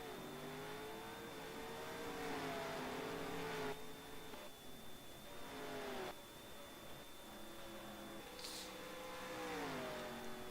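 A race car engine at Yas Marina in a video game drones steadily, with pitch sweeping down and rising again through gear changes on a straightaway and into heavy braking, heard at moderate level.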